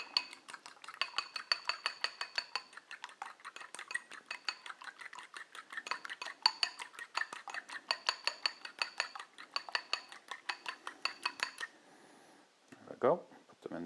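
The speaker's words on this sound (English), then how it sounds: "you can either put the eggs straight in there and mix them, but I like to kind of just pre-beat them a little bit" Eggs pre-beaten in a bowl with a fork or whisk, a fast, steady run of light clinking strokes against the bowl for several seconds before a short pause and a brief voice.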